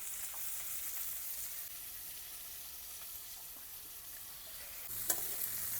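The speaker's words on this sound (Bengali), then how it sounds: "আলু ফুলকপি ভাজা হয়ে গেছে," Potato and cauliflower pieces fry in oil in a pan with a steady, close sizzling hiss. A brief utensil clink comes near the end, and no one speaks.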